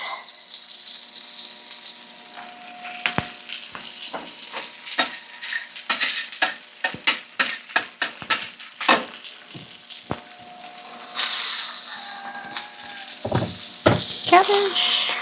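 Steak and cabbage fry in oil in a pan, with a loud steady sizzle under a rapid run of sharp scraping and tapping strokes, then a louder hissing burst near the end.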